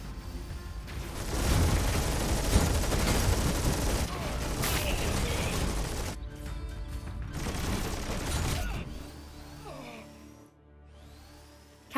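Video game Stormgate battle, with sustained bursts of rapid gunfire and mechanical clatter for several seconds, then the shooting breaks off into quieter, sparse game sounds.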